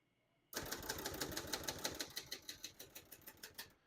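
A 1969 Hermes 3000 portable typewriter clacks away in steady, evenly spaced keystrokes, each crisp strike close and distinct, about five per second, with no talking.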